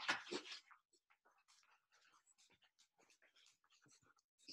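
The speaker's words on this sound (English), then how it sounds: "sorry, I have a misbehaving puppy" A puppy whimpers and pants faintly, with one louder burst at the start followed by a string of soft, short, breathy whines close by.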